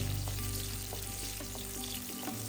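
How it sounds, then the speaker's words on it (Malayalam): Garlic, ginger and green chillies sauté in coconut oil for tomato chutney, with a continuous close frying crackle and a few light stirring taps on the pan. "പച്ചമുളകും ഇട്ട് കൊടുത്ത് നന്നായി ഒന്ന് വഴറ്റിയെടുക്കാം"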